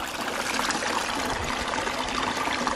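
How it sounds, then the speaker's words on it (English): Water spilling steadily over the edge of a Coanda screen on a micro hydro intake, a close, continuous broadband rush and trickle with no talking. "this right here seems to be bringing the water over the edge really nicely"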